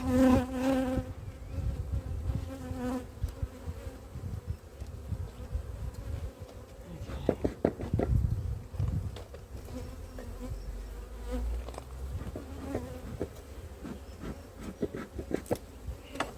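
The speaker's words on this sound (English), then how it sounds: "I've got a couple of bees here that are really annoyed." Annoyed honeybees buzzing during a spring hive inspection, a steady close drone of several bees with pitch swells as individuals fly near and away.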